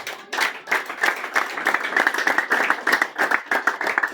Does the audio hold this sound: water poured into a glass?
no